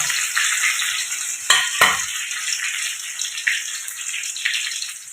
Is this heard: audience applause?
no